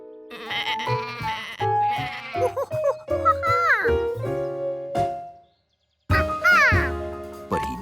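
A cartoon sheep gives several loud, wavering bleats in quick succession, falls briefly silent, then bleats again, close and clear.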